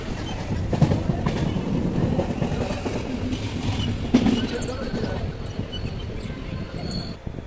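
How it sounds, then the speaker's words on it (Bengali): Steady rumbling interior noise of a moving train, continuous broadband roar with occasional low knocks and rattles, no clear talk over it. "এখন আছি ট্রেনে।"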